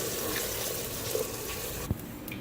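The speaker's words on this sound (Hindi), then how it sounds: "1 गिलास पानी शामिल करेंगे।" A glass of water is poured into mash dal (split black lentils) frying in ghee, giving a continuous close splashing hiss with a few small clinks.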